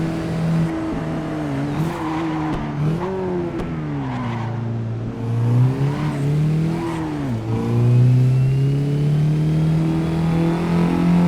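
A Mazdaspeed3 hot hatch engine revving and accelerating on a race track, loud and close, with rising and falling pitch through repeated gear changes and faint tire squeal, no talking.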